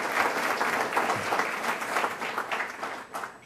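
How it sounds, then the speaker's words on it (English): At a lecture by Randal D. Pinkett, the audience fills the room with steady, warm applause, a dense clapping texture that holds evenly throughout and eases slightly near the close. "Please give George a round of applause"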